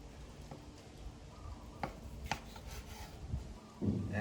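Knife cutting through home-smoked bacon on a board, soft rasping strokes with a couple of sharper knocks and a louder crunching cut near the end, close and quiet.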